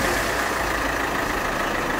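A 2017 Suzuki Ertiga diesel hybrid with manual transmission idles after starting, a steady, loud, low engine rumble close by with a slight rough vibration throughout.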